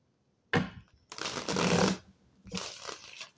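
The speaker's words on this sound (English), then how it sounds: "that was not a good shuffle." Tarot cards being shuffled by hand in three bursts of riffling and crisp card friction, a short flick first and then two longer shuffles, close and clear with no talking.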